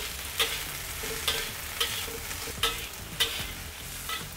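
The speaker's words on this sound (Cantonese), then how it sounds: "第一樣嘢做嘅咧就係煎一煎啲豆乾先" Soft, steady sizzling of dried tofu pan-frying in oil, broken every half second or so by sharp scraping clacks of a utensil stirring.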